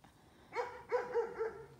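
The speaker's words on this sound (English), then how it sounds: "My dogs are barking." A dog outside at night gives a few short barks in quick succession, close and clear, against a quiet dark background.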